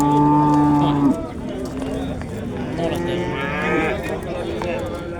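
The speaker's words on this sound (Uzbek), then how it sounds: "Bugun juda ham ko'p sigir kirgan bozorimizga" A cow at a busy cattle market lets out one loud, long moo lasting about a second, then the bellow stops and a steady crowd murmur with distant voices and other animals carries on.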